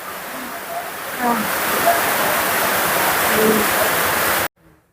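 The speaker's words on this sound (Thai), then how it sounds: "ฝนเสียงดังมากเลย" Heavy rain pours in a dense, steady roar for several seconds, then cuts off abruptly into near silence.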